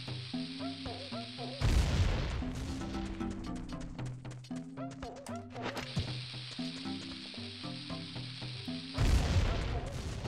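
Two loud broadband bomb blasts in Legend of Zelda Ocarina of Time, one near the start and another near the end, bursting over steady game music.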